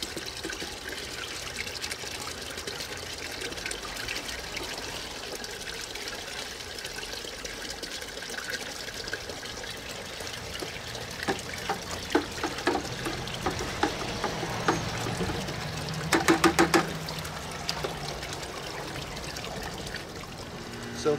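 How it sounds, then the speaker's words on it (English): Tank water from an aquaponics system poured from a bucket back into the setup, a steady splashing trickle that swells into a louder, fuller gush toward the end, heard close with faint room noise. "what I'm going to do is I'm just going to pour it back into here"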